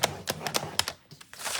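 Paper scored on a scoring board for a stand-up fun fold card makes a run of sharp, close taps and short scrapes in an uneven rhythm, with no talking.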